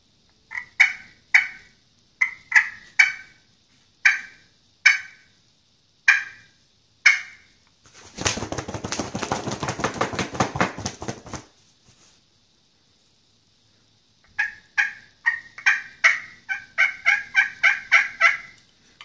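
A person imitates a hen turkey's fly-down with a handheld call: sharp repeated putts in short bursts, then a loud rapid flutter from a hat beaten in the air like wings, followed by quicker clucking calls, close and clear.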